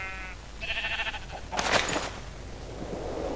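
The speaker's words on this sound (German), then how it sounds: "Schaf." A sheep in the Minecraft video game bleats several times in short bursts, loud and close, with game noise around it and no talk.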